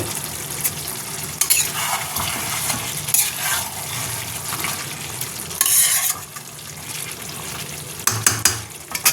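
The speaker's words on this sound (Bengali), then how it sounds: "তারপরে এই পেস্টটা দেবো ঠিক আছে দিয়ে কষতে বসিয়ে দিয়েছি" Spice paste and mutton sizzle and fry in a pan while being stirred, loud close hissing with bursts of scraping and clatter from the utensil throughout, no talking.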